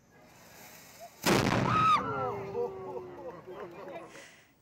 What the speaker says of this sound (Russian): Накануне был сделан пробный выстрел.